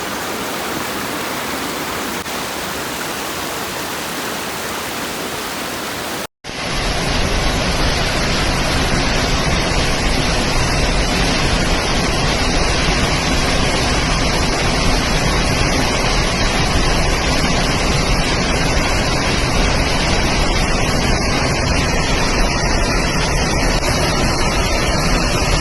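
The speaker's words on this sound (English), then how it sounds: "Let's watch near the waterfalls." Akiu Otake Falls in the Miyagi countryside of Japan roars as a broad, steady wash of rushing water, loud and unbroken after a brief quieter opening.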